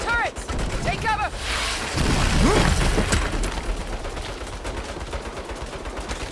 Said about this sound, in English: Turrets! Take cover!